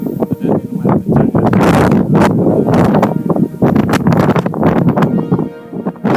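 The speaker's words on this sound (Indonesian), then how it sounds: "Angin pun bertiup sangat intens" Strong wind buffeting the microphone on the Mount Agung hiking trail, loud irregular gusts and rumbling blasts rising and falling over several seconds.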